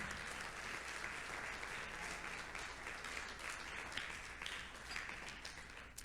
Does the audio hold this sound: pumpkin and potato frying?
no